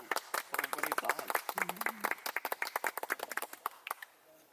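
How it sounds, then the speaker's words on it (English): A room full of people breaks into brisk applause, dense clapping that thins out toward the end, with a few voices mixed in. "Everybody applaud."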